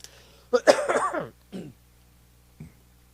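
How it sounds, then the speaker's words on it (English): A single close cough with a raspy throat-clearing tail, followed by a smaller hack and a faint trailing cough, then quiet. "let me take a little drink of water because I'm about to cough again"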